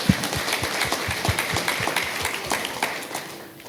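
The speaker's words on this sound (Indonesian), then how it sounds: "Oke, tepuk tangan dulu untuk para wisudawan." A crowd claps for graduates at a 2023 nursing academy graduation ceremony in Merauke, Papua. The dense, steady applause runs throughout, with a few louder claps standing out near the front.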